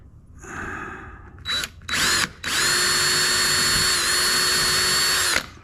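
A power drill drives screws into 2x4 lumber. It starts with a whir, gives two short bursts, then holds a long steady high-pitched run as the screw seats, loud and close.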